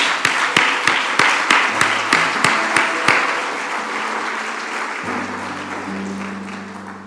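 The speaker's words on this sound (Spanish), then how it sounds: "Un fuerte aplauso para Dios." A church congregation gives a strong round of applause, opening with loud, evenly timed claps in unison for about three seconds, then softening into a looser wash as sustained musical tones come in.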